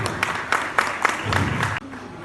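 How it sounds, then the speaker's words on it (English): An audience at an inauguration claps for support staff in a burst of rhythmic, pulsing applause that cuts off abruptly near the end, with voices faintly mixed in. "Come on, let the applause rolling, please."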